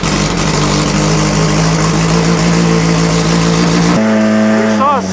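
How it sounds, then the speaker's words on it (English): A Lola race car with a Coventry Climax V8 runs loudly and close, holding a steady throaty drone that cuts off near the end, followed by brief quieter engine tones; voices can be heard faintly under it. "this is the engine, the precursor to it, the Coventry Climax V8"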